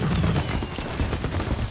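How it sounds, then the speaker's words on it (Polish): Fireworks burst in rapid succession in Mafia: Definitive Edition, a dense crackling volley of sharp pops and booms with no gaps. "Kurczę, fajerwerki"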